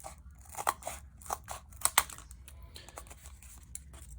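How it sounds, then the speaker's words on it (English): Scissors snip through paper while cutting out puzzle pieces, a series of short crisp clicks and crunches spaced irregularly, close and fairly quiet. "I'll just keep cutting out now, and I can then cut out all of my puzzle"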